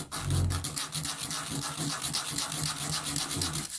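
A thin 2.5 mm steel washer pushed around on sandpaper, a close, continuous gritty scratching with uneven back-and-forth strokes, quiet and heard alone.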